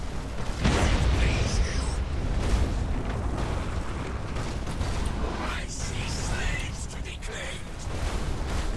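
Torpedoes striking ships in the space battle game Battlefleet Gothic: Armada 2, a heavy rumbling explosion followed by sustained booming, mechanical creaks and blasts in a loud, continuous battle din.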